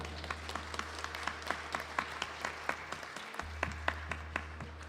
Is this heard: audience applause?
yes